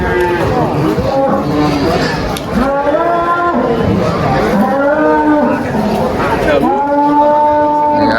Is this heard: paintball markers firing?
no